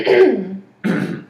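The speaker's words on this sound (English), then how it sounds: "now can you clear your throat?" Two throat-clearing rasps, one long and one shorter after a brief pause, close and fairly loud, with no speech.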